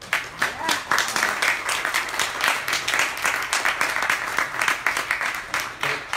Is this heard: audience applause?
yes